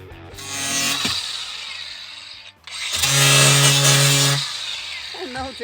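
Power tool trimming plywood on a truck camper build, two loud cutting bursts separated by a brief pause, the second with a strong steady motor tone.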